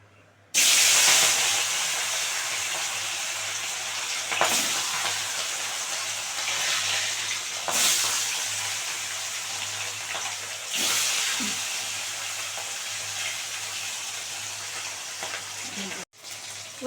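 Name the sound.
katla fish frying in hot white oil in a wok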